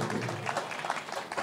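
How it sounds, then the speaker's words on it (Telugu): An audience at a Hanuman Chalisa recitation event applauds, a brief wash of clapping at moderate volume with some voices mixed in. "ఒకసారి గట్టిగా చప్పట్లు కొట్టండి అమ్మకి,"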